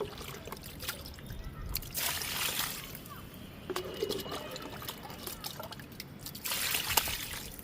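Liquid poured onto a large lemon plant growing in a soil-filled drum, a continuous trickling and splashing that swells and eases, fairly close.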